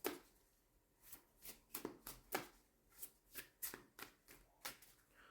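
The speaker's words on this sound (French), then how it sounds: "on va tirer d'autres cartes avec le tarot" Tarot cards being shuffled and drawn by hand, a series of crisp papery riffles and slaps in an uneven rhythm, close and fairly quiet, with no talking.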